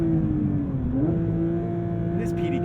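2022 Porsche 911 GT3 with PDK gearbox, engine revving from the driver's seat, a loud steady whine that dips briefly then climbs again, with cabin hum beneath.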